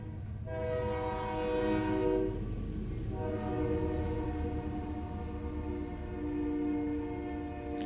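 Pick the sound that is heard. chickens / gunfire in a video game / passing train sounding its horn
passing train sounding its horn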